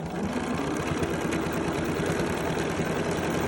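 A Bernina sewing machine with a 10D foot top-stitching binding onto a quilt, a fast, steady, even whir of stitching running continuously at close range.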